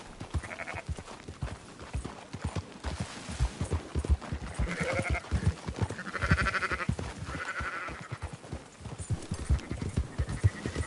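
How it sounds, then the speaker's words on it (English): Sheep bleat in several bursts over steady clip-clopping horse hooves while herding livestock in Red Dead Redemption 2, the calls overlapping at mid distance with constant rhythmic hoofbeats throughout. "Marston, why don't you leave the sheep to me?"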